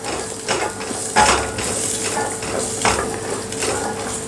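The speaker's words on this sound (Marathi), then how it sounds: "थोडासा फोडणीमध्ये असा परतून घ्यायचा" Cooked green peas stirred and sautéed in hot tempering in a pan, a steady soft sizzle with repeated scraping and clinks of a spoon against the metal, close and fairly loud throughout.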